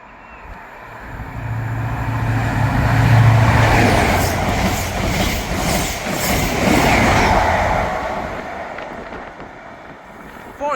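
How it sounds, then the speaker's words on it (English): ScotRail passenger train running from Glasgow Queen Street to Aberdeen passes through Broughty Ferry station, a steady broad rumble with rail noise that swells mid-pass and fades, buffeted by wind on the microphone. "Passing through now is the 1518 Scotrail service from Glasgow Queenshay to Aberdeen."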